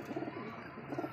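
A soft pigeon coo, two low burbling phrases close by, faint and brief.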